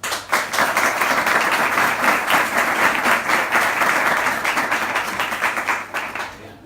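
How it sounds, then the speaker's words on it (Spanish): Steady, vigorous applause fills a lecture hall before a talk on feminism in Málaga, with dense, even clapping that holds strong for several seconds and then tapers off into scattered claps near the end. "Fuerte aplauso."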